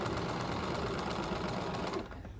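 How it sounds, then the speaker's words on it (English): A sewing machine stitching forward and then in reverse, a dense, even mechanical whir running close and loud throughout before easing off at the end. "I'm going to put my presser foot down, sew forward, hold my reverse,"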